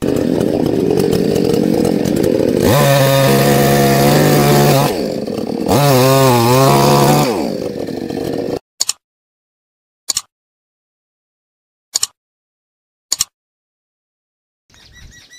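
A cutter machine, a chainsaw, cuts into a big fallen tree in a farm field, droning loudly and revving in two long bursts, then stops, leaving near-silence with a few sharp clicks.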